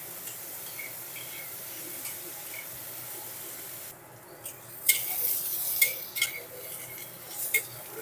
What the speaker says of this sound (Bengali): এবারে পেঁয়াজটা আমাকে ভালো করে ভেজে নিতে হবে